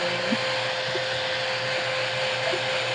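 A 5-in-1 hair blower dryer runs continuously nearby, a steady airy whoosh with a constant motor whine and a few faint clicks mixed in.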